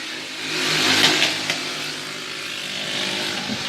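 Race cars roaring up to speed at the green flag, a loud engine rush that swells and fades, with a buzzing, revving drone from nearby and no talking.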